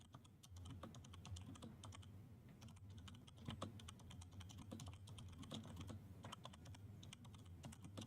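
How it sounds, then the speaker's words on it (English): Rapid, close computer keyboard typing clatters continuously in uneven bursts of keystrokes over a low background hum, with no talking. "How is the keyboard noise, by the way?"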